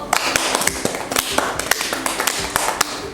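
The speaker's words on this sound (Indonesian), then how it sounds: "tepuk tangan untuk Lulu" Scattered, uneven claps from a small group, sharp and fairly close, continuing steadily for a few seconds.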